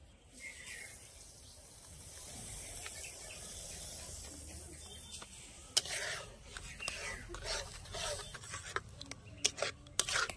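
A spoon scrapes and rubs through semolina in a pan as the boiling water cooks off, a soft continuous rasp broken by sharper clicks and taps against the pan.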